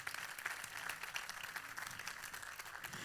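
Faint, steady applause from a church congregation fills the space for about three seconds, a dense even patter with no voices over it.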